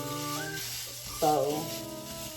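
Ground sausage fries in a skillet for breakfast balls, giving a light sizzle beneath a brief spoken word and some tonal background sound.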